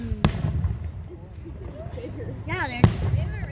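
Fireworks explode in two sharp, loud bangs a few seconds apart, with people talking and exclaiming underneath and around the blasts.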